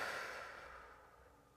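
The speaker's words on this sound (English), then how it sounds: "Open the mouth, exhale." A long, soft exhale through an open mouth during yoga breathing for a hip-opening session, fading gradually over about a second and a half, close and quiet with no talk.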